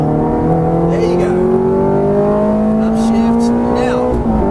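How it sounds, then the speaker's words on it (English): A Ferrari F430 pulls hard on a track, its loud engine climbing steadily in pitch under full throttle with no pauses. "Now start picking up the throttle."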